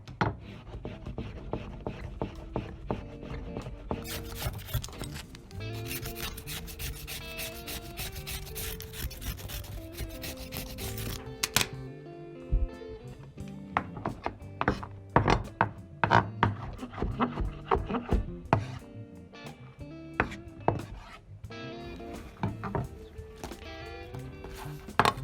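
A carrot is chopped on a wooden board, giving continuous rapid knife strokes and scraping with intermittent sharper thuds, close and steady throughout over a dense background.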